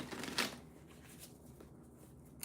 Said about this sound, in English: So I'm going to shuffle again